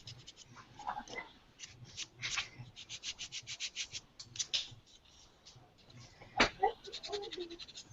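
An eBrush sands a surface with a steady run of short, rhythmic rasping strokes, close and fairly quiet, with a sharper scrape near the end and faint voices underneath.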